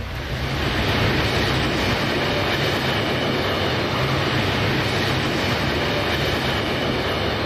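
A train rolling past, loud and near: a dense, steady roar of wheels and rumble fills the whole stretch without letting up, with faint rhythmic clatter in it and no voices.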